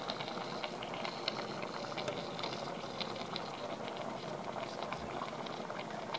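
A pot of thick homemade adjika sauce with horseradish root simmers at a steady rolling boil, its dense, continuous bubbling and popping heard close and even for the whole stretch, with no voices.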